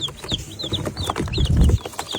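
Young chicks give short, high clucks and peeps in bursts beside low, close thumping and shuffling, with no voices.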